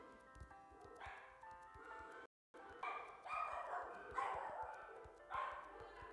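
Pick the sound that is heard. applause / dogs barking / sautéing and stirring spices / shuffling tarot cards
dogs barking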